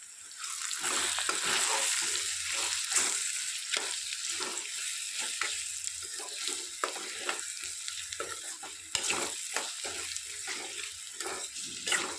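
Bottle gourd curry mixture is stirred in a pan, giving a steady sizzle with wet scraping strokes and soft clatters. The sound runs continuously with no talk.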